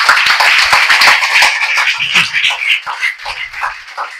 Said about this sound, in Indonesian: Kita bagi satu tepukan gemuruh.